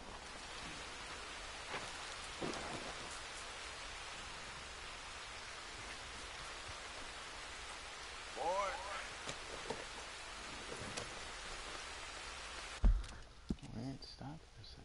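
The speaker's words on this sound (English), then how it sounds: "it's raining" Steady rain falls in a Wild West video game, a constant hiss through the whole stretch with a few brief thumps and a louder knock near the end, and a voice talks faintly over it.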